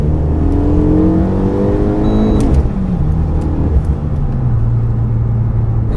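Renault Megane RS accelerating hard, a loud, close engine note climbing through the revs, dipping at a gear change and then building again in a steady rumble.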